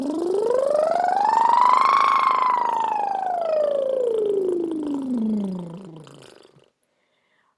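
A single voice imitates a siren during a voice warm-up for voice-over and public speaking, gliding smoothly from low up to high and back down over several seconds, close and steady, then trailing off into silence.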